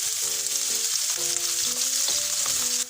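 Chopped onion and garlic fry in a pan for vegetable lasagna filling, a loud, steady close sizzle with faint tonal clinks running beneath it.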